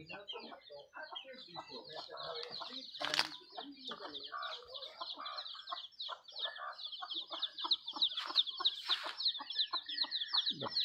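Labuyo chickens cluck and call in a rural farmyard, a busy overlapping chorus of hens and a rooster with occasional wing flaps, fairly close and steady throughout.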